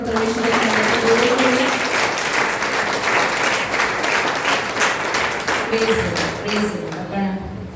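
A church congregation breaks into loud, sustained applause at a Good Friday service, dense clapping continuing for several seconds with voices and sung tones rising over it.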